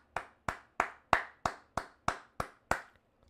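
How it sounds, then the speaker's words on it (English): Nine sharp hand claps ring out one at a time at a slow, even pace, close and alone. "Everybody, round of applause for TFT."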